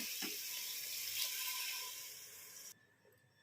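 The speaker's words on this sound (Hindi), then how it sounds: "अब इसमें हम पानी ऐड करेंगे।" Water pours into a pressure cooker holding a fried spice base for potato and pea curry, a brief close splashing stream that fades and stops after a few seconds.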